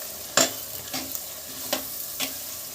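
Spice paste of coriander, chilli and turmeric powders sizzles in oil for a Tamil fish curry, with a quiet steady fry broken by four distinct scraping stirs of a spoon in the pan, close and fairly soft.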